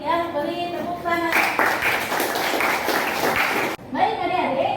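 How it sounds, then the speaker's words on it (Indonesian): Schoolchildren in a classroom break into a dense burst of group clapping that lasts a couple of seconds, with children's voices just before and after it. "beri tepuk tangan"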